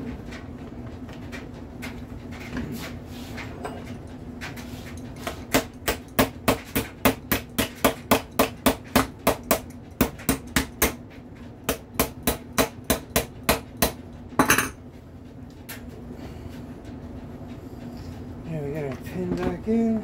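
Small hammer tapping a pin back into an Umarex HDB 68 pistol, a long run of sharp, close, evenly spaced taps, roughly two per second, with a brief pause midway and someone talking before and after.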